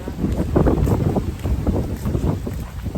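Strong wind in Boracay buffets the microphone in steady, heavy gusts, with a low roaring rumble throughout and a faint voice underneath.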